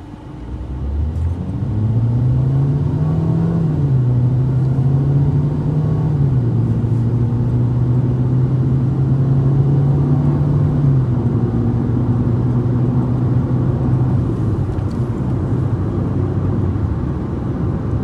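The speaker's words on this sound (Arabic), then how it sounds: "الآن بعمل تسارع نص الدعسة." A 2021 Hyundai Accent with a 1400cc engine accelerates at half throttle, its loud steady engine drone rising and shifting pitch through the gears over about eighteen seconds, heard from inside the car with no talking.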